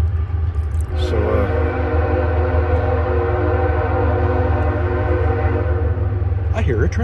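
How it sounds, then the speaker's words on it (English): A train horn sounds over a continuous low rumble of a passing train, the horn's sustained harmonic tones holding steady through most of the stretch, loud and fairly close in an outdoor backyard setting. "I hear a train."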